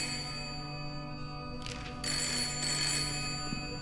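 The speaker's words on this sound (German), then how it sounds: "Telefon." A telephone rings in the Layers of Fear horror game, a bright electronic ring starting partway through and repeating in short bursts over a steady droning background hum.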